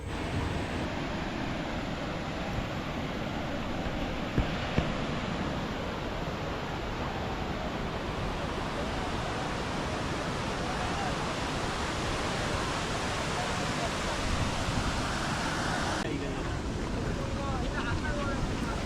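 Constant roaring rush of Dhangar Waterfall near Badlapur, loud and unbroken, with a breezy wash over it throughout.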